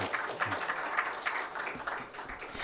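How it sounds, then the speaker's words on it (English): Faint, steady applause from a seated audience at a medical lecture, a continuous patter of many hands heard from some distance at low level. "So big round of applause for Vijay"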